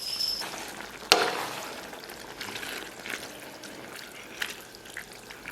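Fatty beef slices drop into a pan of simmering tomato and mushroom sauce with a sharp splash, followed by soft bubbling, light sizzling and occasional stirring.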